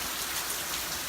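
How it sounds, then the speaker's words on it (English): Steady rain falls hard on outdoor surfaces as a sudden storm passes, a dense continuous hiss with no voices. "I think it's a flood. Because all this rain and stuff."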